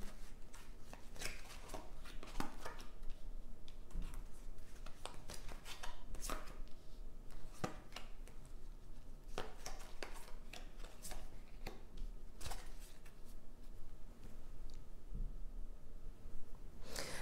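Oracle cards are shuffled for a tarot draw, a quick series of crisp riffling flicks and soft slaps repeating irregularly, close and fairly quiet, with no voice over them.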